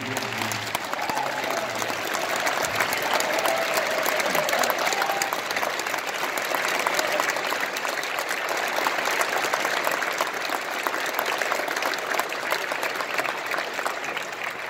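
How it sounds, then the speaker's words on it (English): Sustained audience applause for West Point cadets at a branch assignment ceremony, a broad roar of many hands clapping steadily in a large hall, holding its level throughout with a faint crowd murmur beneath. "Let's give them a round of applause."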